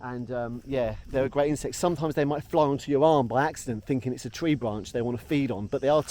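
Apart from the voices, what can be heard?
None of the usual background noises is heard.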